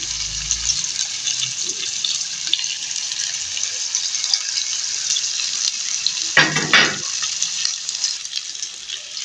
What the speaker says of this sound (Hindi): यहाँ पे ऐड करेंगे हम इसके अंदर टमाटर कटे हुए